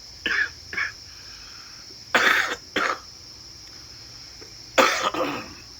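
Three clusters of harsh, close coughs, each a double hack, separated by short quiet pauses.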